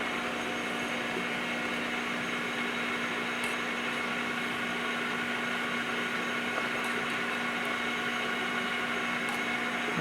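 Metal lathe turning at about 700 RPM while machining a copper bullet die, a steady, loud, unbroken mechanical whine and hum with a constant tone, lasting throughout with no talking.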